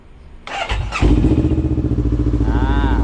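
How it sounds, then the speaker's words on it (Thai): A CFmoto motorcycle engine fires up after a brief starter whir and settles into a steady, loud, throbbing run close by, after new ignition coils are fitted. "เสียงเครื่องเนี่ยผมว่าสมูทกว่าเดิมนะ"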